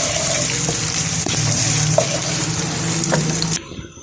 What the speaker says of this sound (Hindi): ये ऑयल गरम हो गया है। प्याज हमें ऐड करना है।